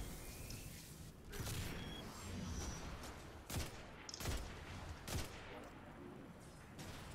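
Gunfire in Destiny 2, a sci-fi shooter video game: scattered sharp shots over a busy game soundscape, with three loud distinct cracks standing out near the end.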